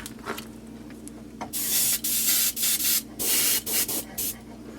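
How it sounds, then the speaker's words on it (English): Bursts of steady airbrush spray hiss painting a fishing lure, several short blasts of varying length separated by brief pauses, close and fairly loud. "I'm going to direct spray this at 90 degrees"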